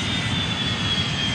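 Continuous, loud roar of airliner jet engines in a mobile flight simulator game, with a steady high whine on top, no voices, unchanging throughout.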